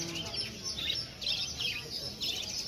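An oriental magpie-robin (kacer) at a bird market sings in repeated bright, chirping whistled phrases, close and clear over a low murmur of market background.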